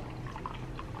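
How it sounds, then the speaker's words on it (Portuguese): Isopropyl alcohol poured from a large jug into a container while mixing a car paint polish, giving a faint, steady liquid trickle for about a second with no speech. "Você vai colocar 200 ml de álcool isopropílico."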